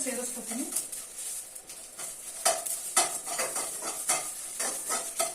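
Dry red chillies frying in oil for tomato chutney, a steady close sizzle with scraping stirs and a few sharper clinks of a spoon against the pan, while a voice talks over it.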